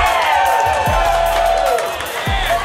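A marina crowd at the Emerald Coast Blue Marlin Classic fish weigh-in cheering and whooping, a busy mix of voices under loud announcer talk, with a couple of low thumps.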